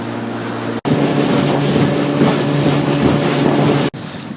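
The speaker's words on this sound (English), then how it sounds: "we just slowed the boat down" A Quintrex motorboat engine drones steadily with a rumbling, broadband roar and water rushing as the boat slows near Dunk Island, Far North Queensland, briefly cutting out twice.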